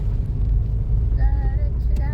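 A car drives along a road on a picnic trip to Mahabaleshwar, its steady low engine and road rumble running throughout beneath people talking inside.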